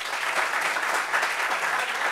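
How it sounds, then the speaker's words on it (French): An audience applauds steadily at a French talk show reunion, a dense, even patter of many hands clapping at moderate loudness for about two seconds, with no voices over it. "Mais ça s'applaudit."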